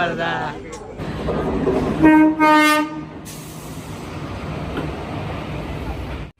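A train horn sounds loudly for about a second amid rumbling rail noise, with voices talking over the steady clatter of a passing or arriving train.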